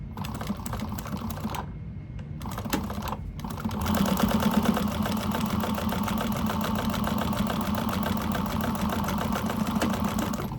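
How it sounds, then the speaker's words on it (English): A sewing machine stitches a bag pocket. A few short runs with pauses give way to a long continuous rapid mechanical whir, close and steady. "I'm gonna go ahead and put another stitch up at the top of it"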